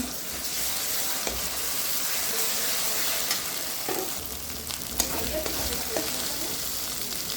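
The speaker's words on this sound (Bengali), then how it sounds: "দিয়ে দিলাম আদা রসুন বাটা" Ginger-garlic paste sizzles in a pan of already-fried onions for a fish bhuna, a steady, close hiss of frying with occasional stirring scrapes and clicks throughout.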